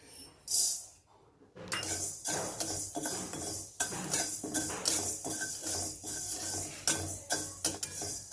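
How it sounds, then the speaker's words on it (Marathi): Fenugreek seeds are dry roasted in a pan, with a spoon scraping and stirring them in quick, clinking metallic strokes after a brief quiet start. "मेथी दाणे भाजून घेऊयात।"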